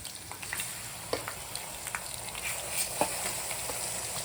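Ginger garlic paste frying in oil in a pan, a steady close hiss and crackle with scattered small pops throughout, and no talk.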